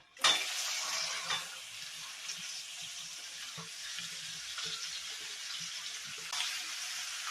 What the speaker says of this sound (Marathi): आता छान कापलेल्या भेंड्या टाकून देऊया.